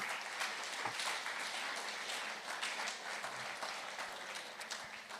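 An audience applauds after a team's tech talk at the Monaco Energy Boat Challenge 2021, a sustained wash of clapping in a room that tapers slightly toward the end.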